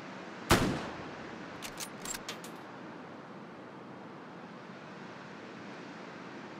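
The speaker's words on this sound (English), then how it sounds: "Oh, that's going to be a long-range shot right there." A single sharp gunshot from a long-range sniper rifle in the VR shooter Hot Dogs, Horseshoes & Hand Grenades, loud and close, followed by a few faint distant clicks and a low steady ambient wash.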